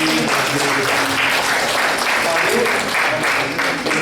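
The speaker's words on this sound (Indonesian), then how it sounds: "tepuk tangan untuk Bude sedikit tadi" Applause from the audience at a special training session with Dr. David Vollmer, a steady, dense wash of clapping that fills the room, with a few voices faintly audible beneath it.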